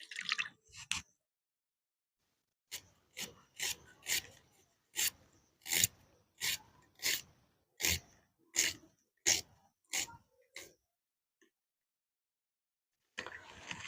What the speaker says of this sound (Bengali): এইভাবে আলু কেটে নেব।